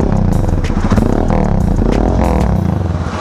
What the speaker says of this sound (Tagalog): Ngayon, nagtanggal ako ng silencer.